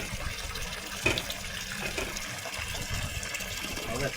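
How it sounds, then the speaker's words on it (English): Hose water gushes and splashes steadily as a boat's outboard motor is flushed, a close, continuous watery rush with a few brief splashy bursts. "Flush the outboard out. Now turn the hose on."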